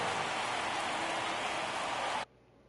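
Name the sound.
crowd noise in baseball video game MLB The Show 24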